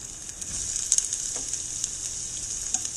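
Onions fry in ghee for a beef curry, giving a continuous bright crackling sizzle with small pops, steady and close throughout.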